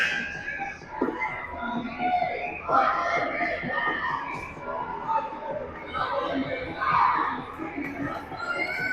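A crowd of children shouts and cheers at a pee-wee ice hockey game between the Ames Flyers and Okoboji Mammoths, with swelling screams and chatter rising and falling at fairly close range.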